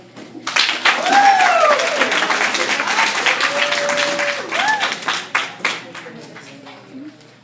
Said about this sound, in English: A warm round of applause, ladies and gentlemen, for Danielle.